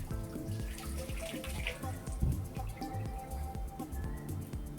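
A small aquarium boat ornament is rinsed under running water, giving a soft, steady splash and trickle from a tap that continues throughout at low volume with no voices.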